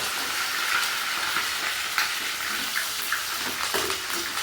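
Garlic, ginger and green chilies frying in a pan for jackfruit pickle, a continuous close sizzle with light stirring scrapes and no talk.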